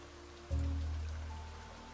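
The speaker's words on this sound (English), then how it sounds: "But it is raining" Steady rain falling in the game Niche, a soft, even hiss of drops with a deeper rushing wash that swells in about halfway through and then slowly fades, with no voices.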